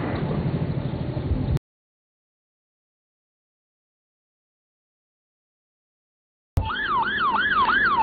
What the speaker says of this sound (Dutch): Terug in Pristina zien we een Britse ambulance voorbij schieten.